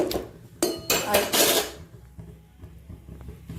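A spoon scrapes and stirs pumpkin in a metal pan on the stove, a few quick loud clattering strokes followed by quieter, sparse scraping.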